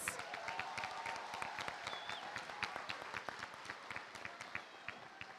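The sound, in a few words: audience applause at board meeting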